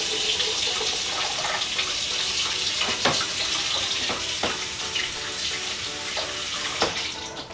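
A kitchen tap runs steadily into a sink while something is rinsed under it, a close, continuous splashing hiss broken by occasional clinks and knocks.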